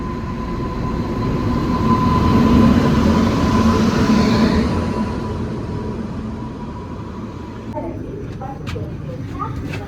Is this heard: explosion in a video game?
no